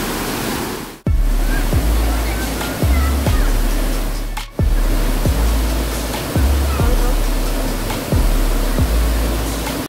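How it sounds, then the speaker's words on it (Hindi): Jibhi Waterfall in Himachal roars with high, fast-flowing monsoon water, a loud, close, continuous rush of falling and splashing water that fills the whole clip, with two brief dips in level. "अभी मॉनसून सीजन में पानी का लेवल बहुत ज़्यादा है इसलिए बहुत ज़्यादा तेज़ी से पानी आ रहा"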